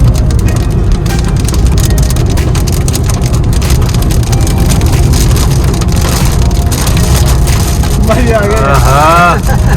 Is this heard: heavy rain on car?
yes